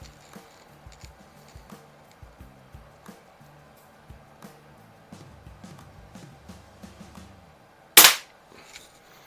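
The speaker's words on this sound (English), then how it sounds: "this single stroke pneumatic, which is just a puff of air coming out" A Daisy 717 single-stroke pneumatic air pistol fires a pellet, one sharp, loud pop near the end after a stretch of quiet clicks and handling noise.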